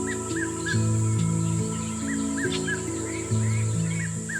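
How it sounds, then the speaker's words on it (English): A small oxpecker bird riding on a rhino's back in the African wild gives repeated short chirping calls in irregular bursts, set against a steady outdoor background. "The oxpecker, a small bird riding on a rhino's back."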